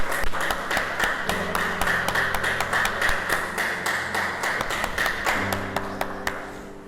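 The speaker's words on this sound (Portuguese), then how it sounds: "Vamos aplaudir o Senhor" A church congregation applauding during a sermon, close, rhythmic clapping in a fairly regular beat that goes on steadily for several seconds over a low sustained musical drone.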